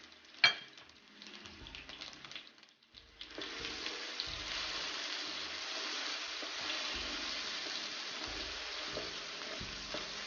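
Mustard and fenugreek seeds with spices frying in hot oil for a fish curry give a steady close sizzle and crackle, starting after a sharp clatter and growing denser, with occasional stirring knocks and no talking.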